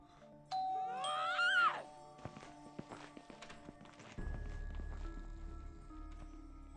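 A doorbell in the winter update of Schoolboy Runaway gives a bright, rising chime, followed by scattered clicks and knocks, then a low steady rumble that begins partway through.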